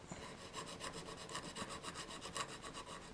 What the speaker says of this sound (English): all we need to do is just gently file it